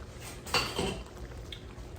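A metal bean masher presses into beans in a cast iron skillet with bacon grease, giving one clear metallic clack followed by a soft squelch over quiet background hiss.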